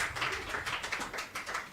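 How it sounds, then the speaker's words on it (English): A studio audience at a music roadshow gives a quick burst of steady, rhythmic clapping, the claps evenly spaced and fairly soft, with no one speaking over them. "Showbiz clap from our studio audience."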